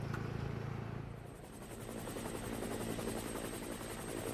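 A helicopter filming a women's junior cycling road race at the 2014 Road World Championships in Ponferrada, its rotor thudding steadily with a whining turbine hum, continuous and moderately distant throughout.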